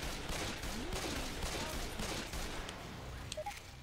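Rapid pistol shots with friendly fire on in a co-op shooter crackle in a dense, continuous burst, loud and busy throughout with a few sharper pops near the end.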